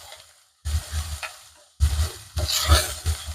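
Turmeric and ginger frying in oil for a goat leg curry are stirred in a pan: scraping, shuffling strokes in several bursts over a constant sizzle, close by, with no talk.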